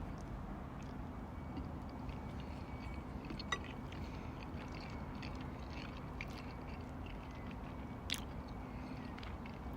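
Someone eats a bite of baked vegan macaroni pudding outdoors, giving soft, steady chewing under a constant background hiss, with a couple of faint sharp clicks and no talking.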